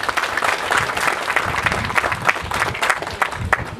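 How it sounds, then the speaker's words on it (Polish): Audience applause at a Polish carp fishing championship ceremony, dense continuous clapping from a nearby crowd at steady loudness. "Brawa wielkie dla was."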